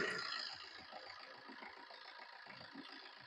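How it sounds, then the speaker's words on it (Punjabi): A 2012 Maruti Suzuki Swift with 56,000 km on it idles with a quiet, even low rumble and soft regular pulsing, somewhat distant and steady throughout, with no voices over it. "ਇੰਜਨ ਦੀ ਸਟਾਰਟ ਕਰਕੇ ਆਪਾਂ ਤੁਹਾਨੂੰ ਮਾੜੀ ਜੀ ਇੰਜਨ 'ਤੇ ਵੀ ਨਿਗਾਹ ਮਰਾ ਦਿੰਦੇ ਹਾਂ"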